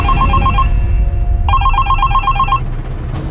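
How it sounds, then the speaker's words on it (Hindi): A telephone rings in a tense crime-drama scene, two bursts of repeated electronic trills separated by a brief gap, loud and close over a low background rumble. "ये तेरा फोन बज रहा है?"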